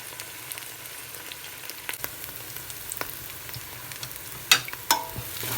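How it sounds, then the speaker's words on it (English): Egusi soup ingredients with tomatoes fry in a pot, a soft continuous sizzle with faint crackles and a couple of sharper pops and stirring clinks near the end. "I'm going to let it to fry so everything can blend well."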